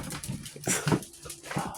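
A Maltese dog whines and whimpers softly in short, breathy bursts, fairly quiet and close, with faint voices in the room.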